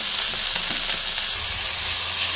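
Ground beef for lumpiang toge frying in a pan, a loud, steady hissing sizzle with a few faint stirring knocks underneath.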